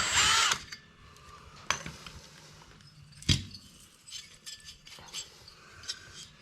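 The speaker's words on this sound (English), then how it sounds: "Yeah, it drills it." A power drill driving in until it hits the collar, in short bursts separated by pauses, with a sharp clink and faint rattling between the runs, close and fairly loud, with no talking.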